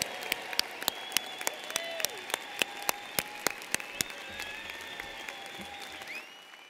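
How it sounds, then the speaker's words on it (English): An audience applauds new Bachelor of Arts graduates at the UIC College of Education spring commencement ceremony, a steady wash of clapping punctuated by sharp, evenly spaced louder claps and a faint tone running beneath. "would like to salute you with a round of applause"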